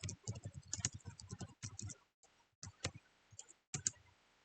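Quick bursts of close keystrokes on a computer keyboard as code is typed, clattering runs broken by short pauses and a few separate clicks, fairly quiet.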